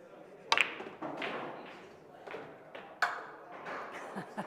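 Pool balls clack sharply during a trick shot by Jennifer Barretta, with two crisp strikes and a few softer knocks and rolls between them at moderate volume.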